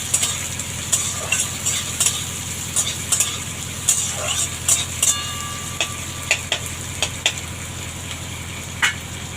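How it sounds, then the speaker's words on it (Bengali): Chopped onions frying in oil for chana masala, a steady close sizzle with scattered clinks and stirring scrapes throughout. "পেঁয়াজটা এবার হালকা লাল করে ভেজে নেব।"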